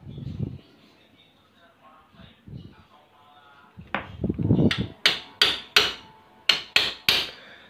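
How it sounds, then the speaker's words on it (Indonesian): A mechanic hammers a T-wrench to push out a stuck CVT pulley block, with a string of sharp metallic blows, loud and close, in an irregular rhythm after some muffled knocking and scraping at the workshop bench. "mekanik bengkel akan pasang kunci T-nya untuk mendorong menggunakan palu di tracker CVT-nya"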